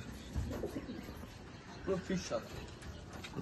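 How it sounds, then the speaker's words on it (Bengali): A pigeon coos softly in a few short low calls as it is let out, with a voice talking over it. "এই পায়রা ছেড়ে দেখাচ্ছি দেখো"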